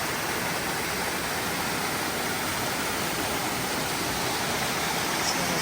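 Brook Falls on the Cohos Trail, a waterfall running at low water, gives a steady, loud, close rushing roar that never changes, with no voices.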